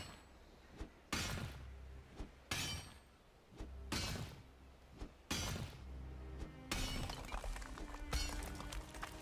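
A pickaxe strikes copper ore in Valheim, sharp crunching impacts about every second and a half, each followed by a brief rattle, ending in a longer clattering burst.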